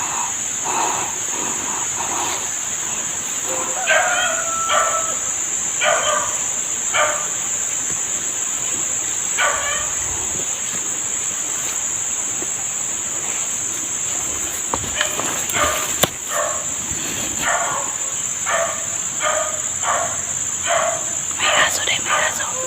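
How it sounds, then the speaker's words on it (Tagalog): A dog near a house at night gives a series of short barks and yips at a distance, over a steady chorus of crickets and insects, with people talking quietly. "May aso dahil may aso."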